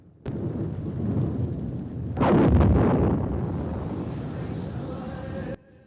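A huge volcanic blast, Tambora's eruption, starts abruptly as a deep rumble, then swells into a heavy booming roar that rolls on loud and sustained before cutting off.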